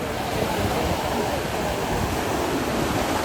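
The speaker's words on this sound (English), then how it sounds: "A little bit bigger waves, but these are just 3 and 4, 5 foot waves." Ocean surf at Waikiki Beach, Hawaii, with three-to-five-foot waves rolling in at high tide, a steady, loud wash of broken water and roar filling the scene without pause, no voices over it.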